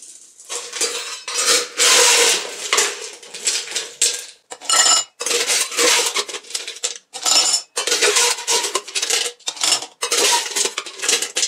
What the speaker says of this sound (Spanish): Vamos a coger nuestro vaso. Por ahí vamos a llenarlo de hielo.